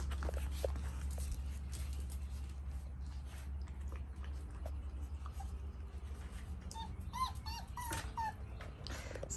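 Doodle puppies playing together, with soft whimpers, small yips and light scuffling over a steady low hum, fairly faint and close.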